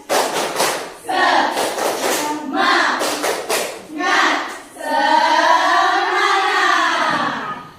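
A classroom group of teachers and students does a rhythmic spirit clap, with sharp bursts of clapping in a patterned beat mixed with chanted voices, followed by someone speaking.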